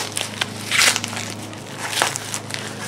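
Wrapping is pulled off a reproduction stainless steel bumper for a 1968 Triumph TR250, giving close crinkling and crackling bursts with a louder rustle early on.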